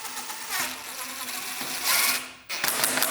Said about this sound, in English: I'm going to use my drill to make my life a little bit easier